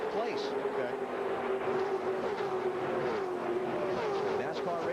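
NASCAR race cars passing on the track during the 2004 Hershey's Kisses 300, a continuous engine roar with shifting pitch as a pack goes by, heard under a commentator's talking.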